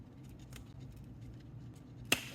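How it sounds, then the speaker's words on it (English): Cutters snip through a Cattleya orchid rhizome in one sharp, close click near the end, after a quiet stretch of faint handling rustle. "we're going to go into the rhizome and we're going to give it a little snip"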